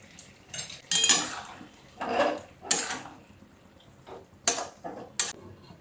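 A cooking pot of mixed-vegetable danta ghonto being covered with its lid, with a run of metallic clanks and scrapes at irregular intervals, close and fairly crisp, with no talk.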